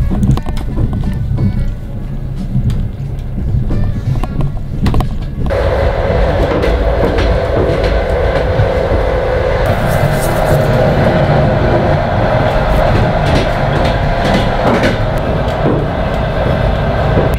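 Riding inside a train carriage on a trip to the Russian town of Sebezh, a constant loud rumble of wheels and rails with rhythmic clacking and rattling throughout, plus a voice speaking briefly.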